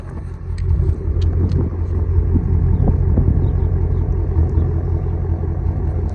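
A Shelby GT350 sports car engine idles nearby in a steady, deep, loud rumble with faint clatter, continuous throughout with no talk.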